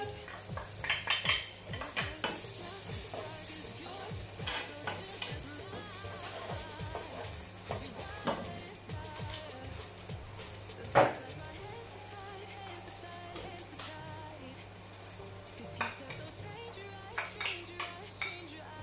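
Chopped carrots are tipped into a pan and stirred, with repeated utensil scrapes and clinks against the cookware over a low steady hum, a faint sizzle and a soft voice nearby.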